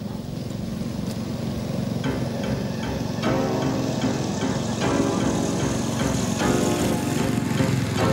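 A lawn mower engine drones steadily at a moderate distance, its running note rising slightly partway through, with no talk over it.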